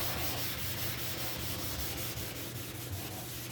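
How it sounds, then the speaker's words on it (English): A Scotch-Brite pad rubs over painted metal in a shop, a steady, close, scratchy scrubbing that continues without a break and without talk. "Just using a Scotch-Brite pad."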